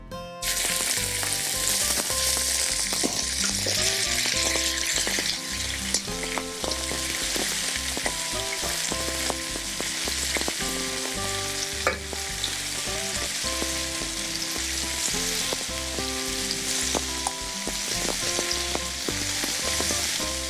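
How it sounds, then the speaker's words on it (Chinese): Boneless beef short rib seared like steak in hot oil in a heated pan, giving a loud, continuous close sizzle and crackle throughout, with occasional clatters of a utensil and no voices. "那我们煎牛排的话，我们油温哦，锅子热，我们就下去"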